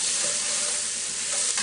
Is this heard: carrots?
yes